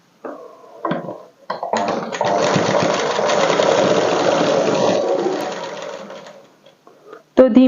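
A sewing machine stitches a folded fabric strip for a dress slit, running loud and close in one steady whirring burst of about four seconds, with brief handling clicks before and after.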